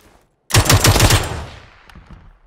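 A short automatic burst of about five rapid gunshots in PUBG, loud and close after a brief silence, with a ringing decay trailing off for about a second.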